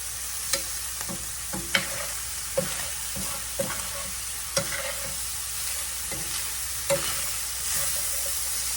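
Seasoned ground beef for empanadas sizzles steadily in a pan while being stirred, with a constant close hiss broken by regular scraping and clinking strokes of the utensil; no one speaks.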